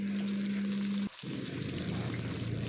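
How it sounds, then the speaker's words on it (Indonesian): Seven large shallots sautéing in a pan for an Indonesian Lebaran dish, a steady close sizzle with a brief gap after a low hum cuts out, then continuous crackling frying. "Kita tumis sampai bawang merahnya itu warnanya berubah kuning kecoklatan dan aromanya wangi."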